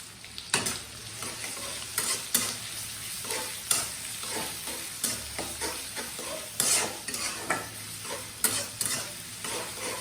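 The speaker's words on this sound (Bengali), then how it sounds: "আমি এখন দিয়ে দিচ্ছি পেঁয়াজ কুচি।" Chopped onion fries in oil in a kadai, sizzling continuously while a spatula scrapes and stirs in repeated strokes about once a second, close and clear with no talking.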